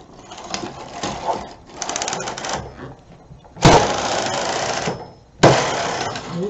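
Domestic knitting machine carriage sweeping across a needle bed loaded with four yarns while knitting a woman's V-neck sweater, several rattling passes that stop and start, some louder and closer, with faint voice in places.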